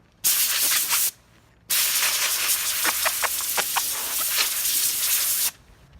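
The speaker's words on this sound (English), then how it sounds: "I just kind of have the air chuck and blower ready to kind of just blow it off every once in a while" Compressed air hisses from a blower nozzle, blowing dust off a Land Rover tailgate during mobile paint repair: two loud close bursts, a short one then a longer sustained blast with fluttering pulses.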